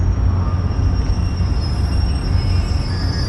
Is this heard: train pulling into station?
yes